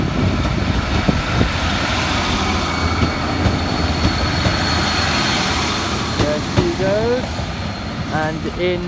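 A Class 390 Pendolino electric train pulls into Crewe station on the West Coast Main Line, a loud rolling rumble with rhythmic wheel clicks and rising squeals near the end as it slows.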